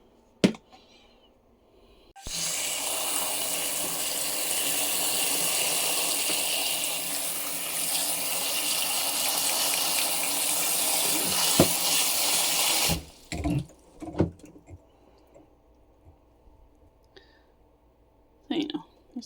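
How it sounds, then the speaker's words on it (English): Blackberries are rinsed in a bowl under a running kitchen tap, a steady broad rush of water lasting about ten seconds, followed by short clinks and handling noises of the bowl and berries. "I'm just going to dump them into this bowl and give them a little rinse."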